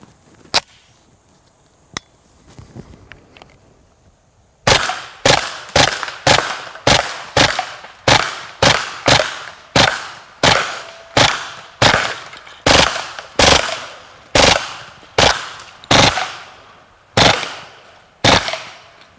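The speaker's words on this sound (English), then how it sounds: "you can actually hear the difference in the rate of fire between the Plus P ammunition and some of the regular ball ammunition" A Kriss Vector submachine gun fires about twenty sharp, loud shots in a steady rapid sequence at close range, with no talking. Two isolated cracks and a faint rustle come before the string of shots.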